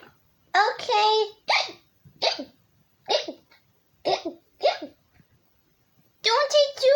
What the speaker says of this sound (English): We're starting to get more hiccups.